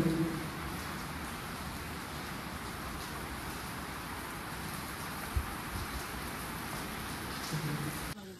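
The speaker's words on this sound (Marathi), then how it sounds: "थोडा पाऊस कमी झालेला आहे" Steady rain falling on surfaces at Gorakhgad Fort in Maharashtra, a continuous dense hiss with one brief thud midway, no voices.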